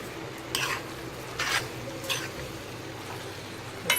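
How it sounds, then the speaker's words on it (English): A spoon stirs saltfish, sweet pepper, carrot and thyme in a pot over low heat, giving a few short scraping, squishing strokes against a steady soft background hiss. "Just giving everything a stir."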